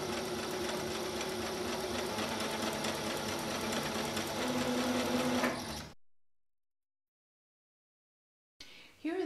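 A sewing machine runs steadily, stitching along the waistband edge of pajama pants, then stops and falls silent before a brief burst of noise near the end.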